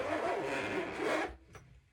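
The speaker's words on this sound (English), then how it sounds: "with your left hand, you're going to undo the left zipper" The zipper on a violin case is pulled open in one long, continuous rasping stroke lasting over a second. A brief faint click follows, and the sound is quiet and close with no talking.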